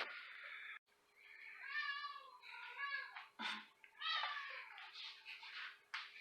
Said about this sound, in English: In the background you can hear my cat, maybe.